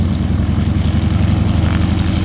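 A propeller aircraft engine drones steadily and loudly at close range, a continuous low rumbling buzz with no voices.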